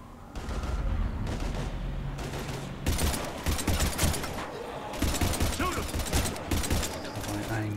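Gunfire in the video game Mass Effect 3: bursts of rapid shots and loud single cracks, some heavy booms, close and coming in clusters, with voices shouting over parts of it.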